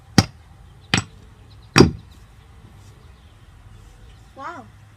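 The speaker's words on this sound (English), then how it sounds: "now we're gonna smash it with a hammer because we want to." A hammer smashing a block of frozen slime, three sharp, loud impacts about a second apart, followed by a brief voice near the end.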